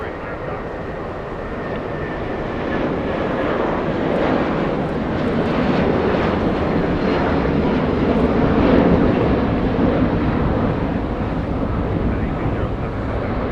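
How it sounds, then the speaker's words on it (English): A Boeing 787 Dreamliner in a special New York livery at Los Angeles International Airport gives a steady, broad jet roar that holds loud throughout, with a commentator talking over it. "787 Dreamliner pushing back from Tom Bradley International"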